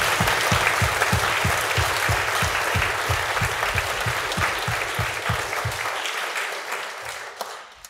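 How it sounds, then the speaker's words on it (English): A school hall crowd applauds Primary 7 pupils at a primary school prizegiving, loud steady clapping over regular low thuds like stamping feet, fading out over the last couple of seconds. "we should give all of our Primary 7s a round of applause for their efforts."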